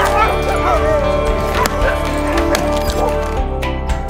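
Several dogs bark and yip close by in quick, overlapping bursts, with occasional whimpers, loud and continuous throughout.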